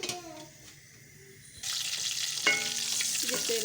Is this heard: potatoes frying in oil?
yes